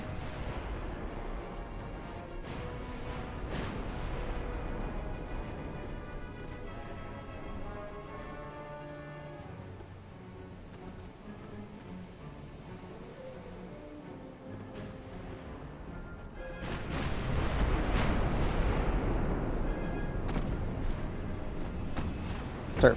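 Heavy battleship guns fire in the naval video game Ultimate Admiral: Dreadnoughts. Deep booms rumble under a steady hum and music, and a louder, sustained salvo swells in the later part.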